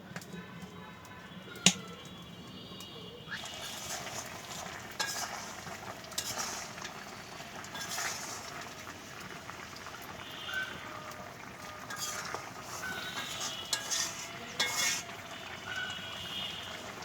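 A hand-mixed fish curry cooks in a wok on a lit stove, giving a steady low sizzle with occasional stirring scrapes and small clicks. No one speaks.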